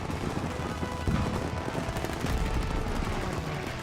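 Gunfire in the World War II shooter game Call of Duty WW2 during a trench assault, a dense, continuous barrage of rapid shots and machine-gun bursts that stays loud throughout.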